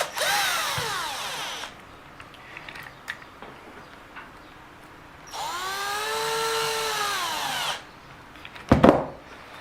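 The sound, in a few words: screws being driven in to reassemble an Eachine EAT11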